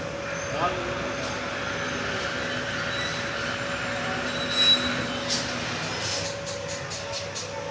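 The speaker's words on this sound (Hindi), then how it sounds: "ट्रेन रुकी हुई दोस्तों भावलपुर रेलवे स्टेशन पे।" Passenger train halted at Bahawalpur railway station in a heatwave, with a steady low engine hum, faint squeaks and metallic clinks over platform bustle and distant voices.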